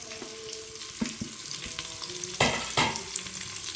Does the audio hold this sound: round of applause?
no